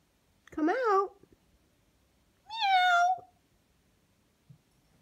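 A house cat meows twice from close range, two clear drawn-out calls separated by a pause, with quiet surroundings between them.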